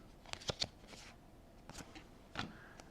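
Soft, quick snaps and slides of Sorcery: Contested Realm trading cards being flipped through by hand, a handful of brief crisp flicks spaced irregularly over quiet background.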